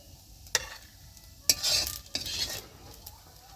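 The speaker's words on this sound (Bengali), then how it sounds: "কচু শাকগুলো হালকা আঁচে ভালো করে ভেজে নিতে হবে আস্তে আস্তে।" Taro leaves fry in a pan over low heat, a steady soft sizzle broken by a few sharp scrapes and clinks of a spoon stirring against the metal, close and fairly quiet with no voices.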